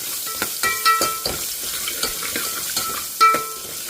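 Onions sizzling and being stirred in a pan for a sweet potato stew, with soft frying hiss and repeated scraping clinks of a utensil against the pan, close up.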